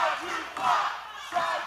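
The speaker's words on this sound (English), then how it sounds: "telling him it's time to fly. Listen to the crowd." A wrestling crowd chants 'time to fly' in three loud rhythmic surges, a packed arena voice rising and falling together in close succession.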